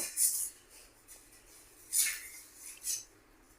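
Three light metallic clinks a second or so apart, a lid being set onto a pot of green apple moru kulambu left to boil, in a quiet kitchen.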